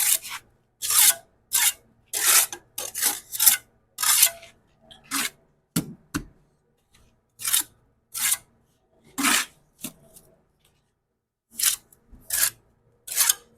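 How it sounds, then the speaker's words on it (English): A trowel butters the ends of a concrete block with sand-lime mortar in a close, irregular series of short scraping and slapping strokes, separated by quiet gaps, with no talking. "we got to lay our block flat to get both ends buttered here"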